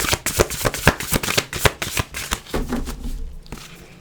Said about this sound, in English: This is such a big deck. It's awkward to shuffle.